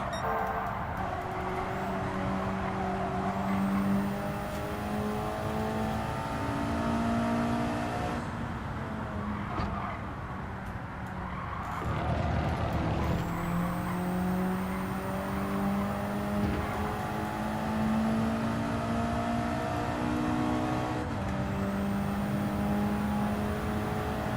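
A race car engine in Gran Turismo 7 holds high revs while drifting, the pitch rising and falling as it shifts gears, with a short dip midway, steady and continuous throughout.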